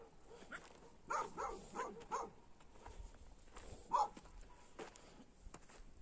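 A dog barks a few times far off in the distance at night on a rural highland pasture, faint bursts in a quiet outdoor setting with low background hiss.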